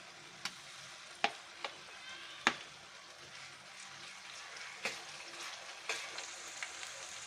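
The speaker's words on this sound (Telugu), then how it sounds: "ఇప్పుడు అల్లం వెల్లిపాయ పేస్ట్ వేసుకుందాం" Ginger garlic paste frying with onions in a pan for a drumstick chicken curry, a faint steady sizzle punctuated by scattered sharp spatula taps and scrapes, quiet and close with no talking.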